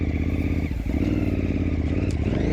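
A KTM adventure motorcycle rolling slowly, its engine chugging at low revs with a steady rhythmic pulse, close and loud, with some clatter over rough ground.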